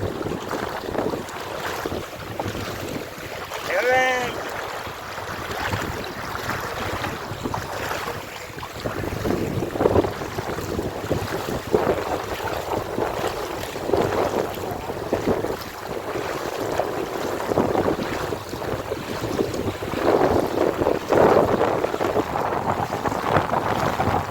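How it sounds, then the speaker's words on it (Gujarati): A fast-moving, swollen river rushes loudly and continuously, with buffeting wind noise on the microphone and a brief whistle-like tone early on. "અહીંયા પાણીનો પ્રવાહ બહુ વધી ગયો"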